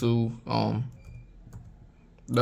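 Typing HTML code on a computer keyboard gives soft, light key clicks in a quiet gap between stretches of someone talking.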